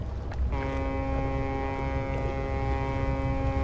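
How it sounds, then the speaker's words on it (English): A deep foghorn blares from a boat in the fishing game Dredge, starting abruptly and holding one steady, loud tone over a rushing wind-and-water background. "foghorn maybe."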